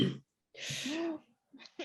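A single sneeze, fairly close and sharp, with brief breathy sounds around it and a short voice fragment after, in a quiet indoor interview setting.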